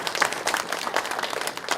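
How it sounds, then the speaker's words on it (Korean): A crowd at an outdoor political campaign speech in Jeju claps in brief, dense applause from a moderate distance, with no talk over it. "박수 한번 치주이소"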